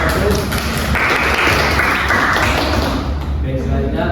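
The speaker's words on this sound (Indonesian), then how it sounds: "Berikan aplaus dulu untuk nomor 1." A room of people applauds a presenter after a small-group discussion presentation, steady continuous clapping that stays fairly loud and even throughout.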